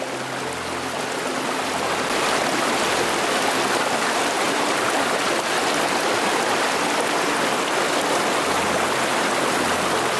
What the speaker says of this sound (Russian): Причем не просто ручей, а ручей с порожком.